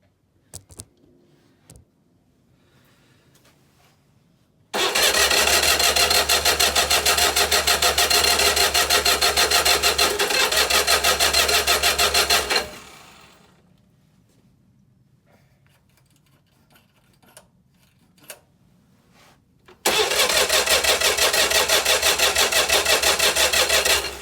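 Engine of a 1955 Citroën 2CV AZ cranks loud and steady in two long bursts of roughly eight and four seconds, separated by quiet, without catching or running.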